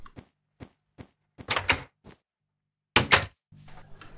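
A door opening in Minecraft with the Tekkit modpack: a few soft clicks, then two sharp wooden knocks a second apart, with a low hum entering at the end.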